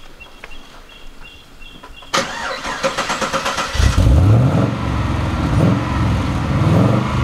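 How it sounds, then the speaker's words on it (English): A 1989 Batmobile replica is cranked with a rapid whirring starter until the engine catches and bursts into a loud, rumbling idle with revs, close up and without talk. "so let's do the startup"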